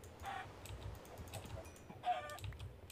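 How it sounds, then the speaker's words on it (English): Chickens clucking in a Minecraft-style video game, a few short clucks spaced apart at low volume, alongside soft keyboard typing. "Oh yeah, two more chickens to kill."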